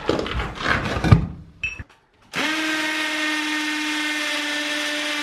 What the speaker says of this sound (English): we are just drilling through the wall